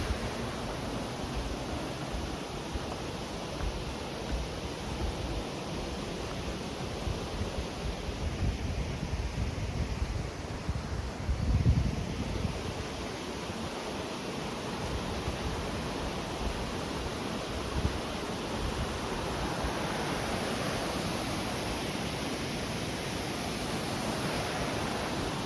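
Todoro waterfall in Japan rushes in a continuous broadband roar, steady and enveloping for the whole stretch with a brief low thump near the middle.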